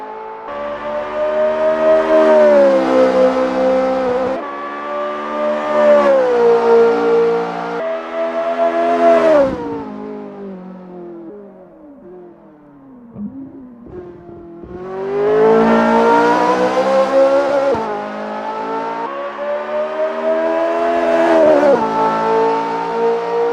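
Ferrari F355 racing around the Hungaroring in the Assetto Corsa video game, its engine revving loud and high with rising harmonic sweeps and gear shifts, easing off through a slower section mid-lap before screaming back up to full throttle.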